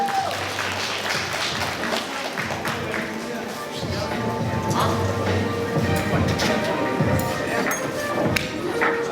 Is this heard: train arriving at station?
no